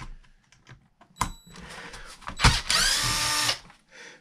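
A power driver works the bolts out of the shocks on a Traxxas E-Revo RC truck, sounding as short close bursts of whirring, the longest about a second, between small clicks and handling noises.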